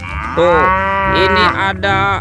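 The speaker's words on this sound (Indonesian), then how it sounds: "sapi mo." A toy farm animal set plays a loud, drawn-out cow moo in two sustained bellows, and a person speaks briefly around it.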